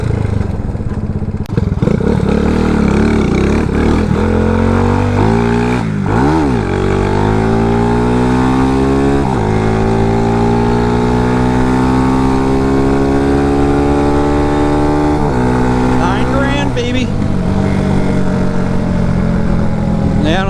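A CG250 motorcycle fitted with a Kipa 28mm flat slide carburetor revs loudly and close by, its engine pitch climbing, dipping sharply and climbing again through repeated throttle blips.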